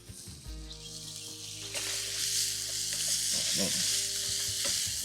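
Ten eggs sizzle and fry in a pan on a camp stove during outdoor truck-camping breakfast cooking, a steady loud hiss building after a brief start, with scattered clinks and scrapes over it.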